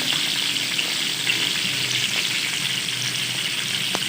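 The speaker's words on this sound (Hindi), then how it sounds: "अब मैं ऊपर से प्याज डालूंगी," Onions sizzling and frying steadily in a pan of chicken tikka, a close, continuous crackle with no talking.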